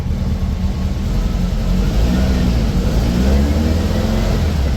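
A fuel-injected 1835cc VW engine runs in first gear on a chassis dyno, a steady loud drone with a low rumbling tone that rises slightly as it accelerates, heard without talk.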